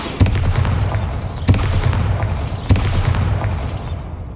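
Confringo and Bombarda spell blasts in the Hogwarts Legacy video game: three sharp booming explosions spaced roughly a second apart, each with a rumbling tail, loud over a continuous game soundscape.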